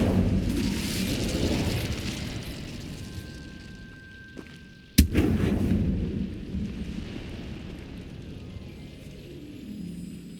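An Incendio fire spell cast in the Hogwarts Legacy game: a loud rumbling whoosh of flame that fades, then a sharp crack near the middle followed by another roaring burst that slowly dies away, with no talking.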